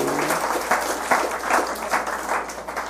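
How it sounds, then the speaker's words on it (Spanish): Church congregation applauding during a Spanish-language worship service, a steady mid-level clapping texture over about three seconds with no talk over it. "Un aplauso al Señor Jesús."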